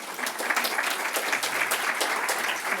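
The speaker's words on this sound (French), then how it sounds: "Alors, Madame Mercure, on applaudit" Audience applause at a plant-technology conference in Quebec: steady, dense clapping from a seated crowd, sustained evenly throughout without voices.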